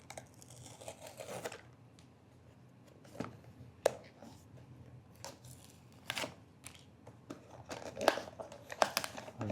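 A Labubu blind box package is torn open at close range, with crinkling plastic, sharp ripping bursts and rustling handling noises scattered between quieter moments. Faint voices can be heard in the background.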